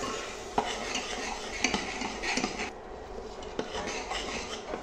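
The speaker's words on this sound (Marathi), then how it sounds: "व्यवस्थित अशी परतून घ्यायची आहे आपल्याला आपली पेस्ट" Onion masala paste for chole is sautéed and stirred in oil in a pan, giving a steady sizzling rasp with close, repeated scraping strokes and occasional metallic clinks of the spoon against the pot.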